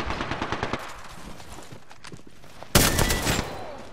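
Rapid automatic gunfire in the Apex Legends video game, a quick series of bursts followed by a quieter gap and then a loud, dense volley of shots.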